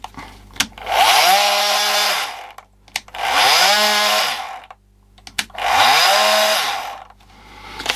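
A repaired Bosch 10.8 V multi tool running in three separate bursts of a few seconds each, a loud close buzz that spins up and winds down each time, with short pauses between.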